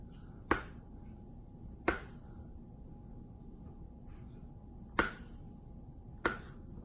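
A knife slicing crosswise through a banana on a cutting board, four separate sharp chops spaced a second or more apart, close and crisp against a quiet background.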